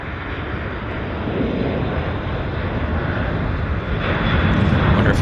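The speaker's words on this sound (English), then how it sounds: "WestJet's powering up on the roll." WestJet jet airliner powering up on its takeoff roll at Vancouver airport, a broad steady engine roar that swells slightly louder toward the end, heard from a distance with no talk.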